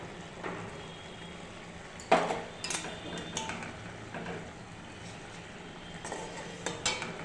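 A spoon stirring Bengali-style fish curry in a pot, giving scattered metallic scrapes and clinks against the pot over a quiet, low background of simmering, with several sharper knocks spaced through.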